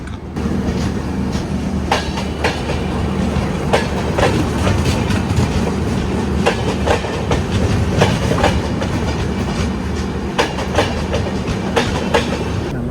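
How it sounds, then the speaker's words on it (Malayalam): The Rameswaram–Okha Express rumbles steadily past at close range, with a continuous heavy roar and repeated clicking of wheels over rail joints, no voices. "ഇത് ഏതാണെന്ന് വെച്ചാൽ രാമേശ്വരത്തുനിന്ന് ഓക്കയ്ക്ക് പോകുന്നൊരു എക്സ്പ്രസ് ആണ്"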